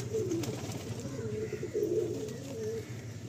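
Madrasi and Andhra pigeons coo in soft, repeated throaty phrases at moderate distance, over a low, steady background hum with no talking.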